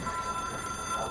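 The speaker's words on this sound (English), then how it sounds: "I'm fed up of hearing that freaking phone ringing." A telephone rings in the video game Control, a steady electronic bell tone repeating without a break through the whole moment, fairly loud and up close with no talking over it.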